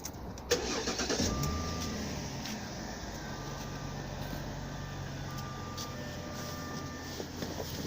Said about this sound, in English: Just gonna turn on the engine right now